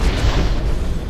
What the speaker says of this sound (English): High explosive out!